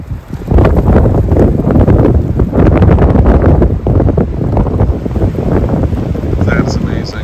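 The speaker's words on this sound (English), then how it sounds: "It's windy and raining, pouring rain." Strong wind buffets the microphone on a cold, rainy stretch of the Southwest England coast at Stair Hole, a loud, gusty rumble with uneven bursts and crackle that runs throughout.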